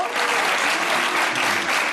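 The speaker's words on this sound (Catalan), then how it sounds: "un aplaudiment pel primer contertuli del programa" Applause for the first panelist on a Catalan sports radio talk show, a steady dense clapping from a studio audience filling the whole stretch, loud and close.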